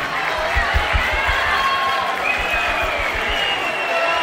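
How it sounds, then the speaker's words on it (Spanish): Applause and cheering from the crowd at an outdoor huapango dance contest in San Pedro Zimapán, Hidalgo, heard as a dense, steady wash of clapping and voices from a fairly close audience, with thumping beats underneath. "Los aplausos."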